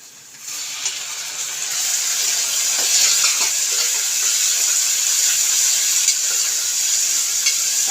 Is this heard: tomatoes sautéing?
yes